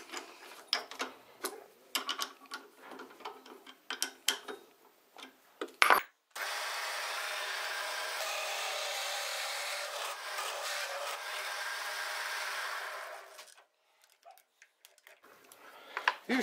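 A hole saw bit cuts a wooden furniture plug from a clamped rail: a continuous grinding whir lasting about seven seconds, framed before and after by sharp clicks, taps and handling knocks of the workpiece and tool.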